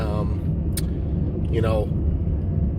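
An old car's engine rumbles loudly and steadily while driving, with a voice briefly heard over the drone.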